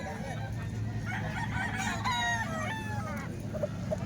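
Chickens and a rooster for sale at a Tuesday market in Calumpit, a rooster crowing a couple of times over steady clucking and a busy background hum.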